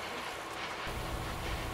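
Amtrak Extra #858, a passenger train of Superliner cars, rolling past at Paoli, a loud continuous rushing rumble that swells slightly partway through, with no talking.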